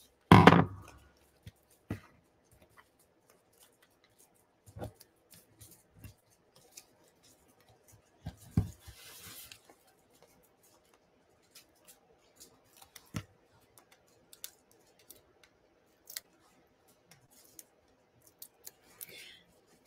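Scissors cut paper pieces apart for card making in short, sparse snips and clicks scattered across a quiet room, with a louder rustle at the start.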